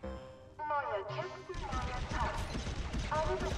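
Blaster fire in Lego Star Wars: The Skywalker Saga, rapid repeated zapping shots and crashing impacts amid game sounds, while someone talks over the action throughout.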